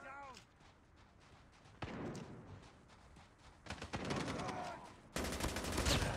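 Sniper rifle gunshots in Call of Duty, a few sharp loud cracks and bursts of gunfire amid game effects and background noise.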